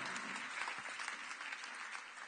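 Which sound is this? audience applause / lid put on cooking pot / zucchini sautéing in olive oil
audience applause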